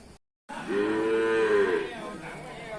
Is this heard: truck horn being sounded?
no